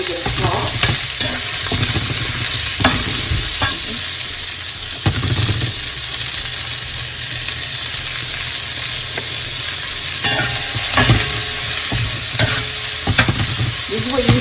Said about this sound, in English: oil will get hot quick. Hear that sizzle?